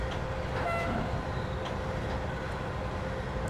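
A BR111 electric locomotive in Train Simulator 2016 rumbles along with a continuous loud, dense running noise and a faint horn-like tone early on, no voices.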